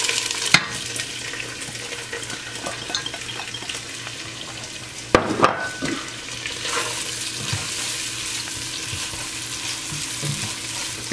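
Onions sautéing in about a third of a cup of olive oil in a preheated pot give a steady close-up sizzle, with a few sharp stirring knocks and clatters along the way.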